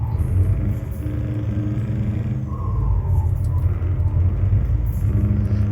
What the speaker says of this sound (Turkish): işte egzoz sesi her neyse